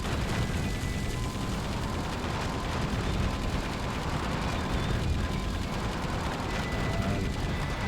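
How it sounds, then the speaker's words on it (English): Rapid, continuous chain gun fire from the mech shooter game Metal Wolf Chaos XD, a dense mechanical rattle of gunfire and explosions running steadily for the whole stretch without pause. "it definitely is harder to see when you hit something when you're also firing the chain gun"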